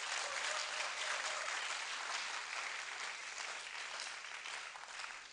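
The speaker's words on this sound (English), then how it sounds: "please, let's clap for Professor Noche for his role he played" Sustained applause from a delegate congress audience honouring a professor, steady dense clapping throughout, fairly distant and even, with no talk over it.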